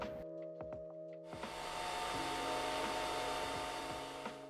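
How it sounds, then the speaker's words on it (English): A TUSHY bidet's dryer blower starts up after a few faint clicks and then runs as a steady, close, airy whir with a constant motor tone and no talking. "Tap the dry function and this will activate the blower for both the front and the bum."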